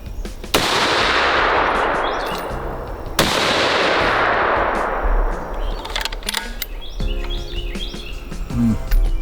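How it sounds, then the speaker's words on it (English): Two loud rifle shots fired outdoors while checking scope groupings, each with a long echoing decay, and faint birds chirping between them. "you might want to shoot me one more"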